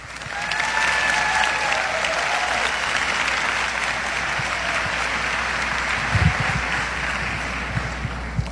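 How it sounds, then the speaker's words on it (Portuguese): A church congregation breaks into sustained applause after the Gospel reading at Mass, a dense, even wash of clapping that fills the room for the whole stretch. "Pode aplaudir."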